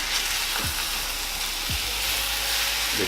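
Hash browns sizzle and fry steadily in a country skillet, a continuous close hiss with faint scraping as they are turned over, no voices.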